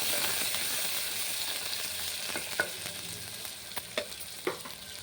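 Onions sizzle steadily in a pan for mutton curry, a constant frying hiss with a few stirring clinks and louder crackles toward the end, heard alone.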